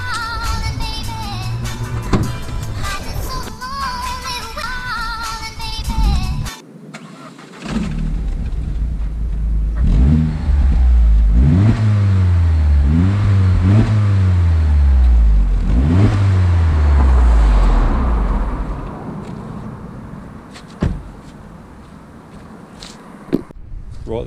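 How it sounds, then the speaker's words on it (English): A Vauxhall Corsa VXR engine on its standard exhaust idles, then revs up repeatedly in rising, falling sweeps, loud and close, before settling back to a steady idle. "show you a quick clip on how it sounds now with the standard exhaust"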